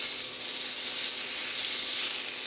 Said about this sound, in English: And I'm going to sear this for about 3 minutes of each side.